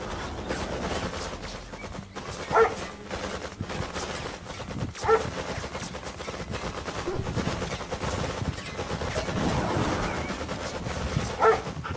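Attack dogs in the Command & Conquer Red Alert video game bark in a few short, sharp bursts, spaced several seconds apart, over a steady rumble of gunfire and battle noise.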